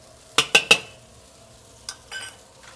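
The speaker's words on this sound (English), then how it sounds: "I'm going to add these scallions now." Scallions go into a simmering sesame beef sauce in a wok: three quick sharp metal clanks of the utensil, then softer scraping stirs and a brief sizzle, close up with no voices.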